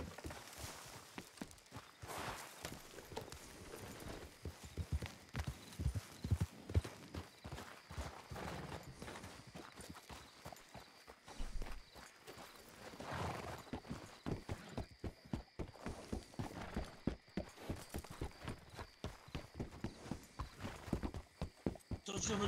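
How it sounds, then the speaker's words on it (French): Horse hooves clip-clop across the ground in the Western video game Red Dead, an irregular walking-to-trotting rhythm, fairly close, heard under intermittent talking. "Un cheval qui s'est barré"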